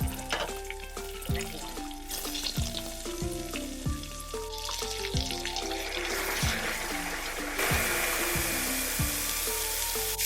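Curry leaves and lentils sautéing in oil in a pan for a Kerala stir fry, steady loud sizzling and crackling with stirring scrapes, close up, while background music plays.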